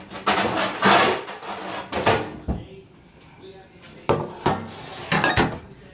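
A metal sheet pan pulled out in a kitchen, with a series of clattering bangs and knocks of pans and cupboard doors, loud and close, mixed with speech.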